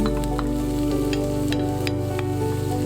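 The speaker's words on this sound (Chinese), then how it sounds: "那么锅里面烧热之后加入油， 先把胡萝卜炒香。" Carrots stir-frying in hot oil in a wok for hot and sour soup, a steady loud sizzle and crackle running throughout with occasional stirring scrapes, close up and without talk.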